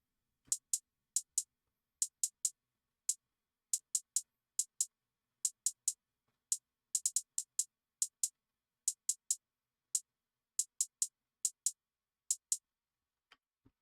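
A crisp, bright hi-hat sample programmed in FL Studio ticks in quick groups of two to four hits, steady and dry with silence between bursts.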